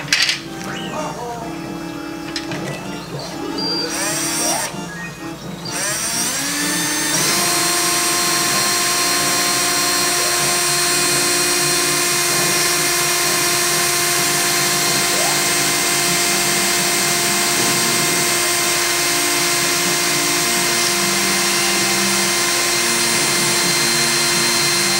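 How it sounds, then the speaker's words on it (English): Power drill boring a hole into a PS3 controller shell, starting with short uneven bursts and then settling into a loud, steady whine that runs on for about twenty seconds, close up with no talk. "First thing I'm gonna do, like I said, is I'm gonna drill this hole"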